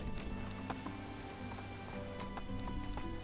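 Horse hooves clip-clop at a steady riding pace in the medieval farming game Medieval Dynasty, a rhythmic patter of hoofbeats over a dense game soundscape with music-like tones.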